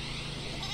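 A goat bleats in the Airport Renovator video game, a loud, sustained wavering cry that fills the short moment on its own.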